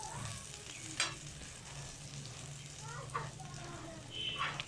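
Dhaba-style aloo paratha fries in ghee and very hot oil on a pan, with a steady low sizzle and soft scraping stirs from a spoon, plus a few faint chirps in the background.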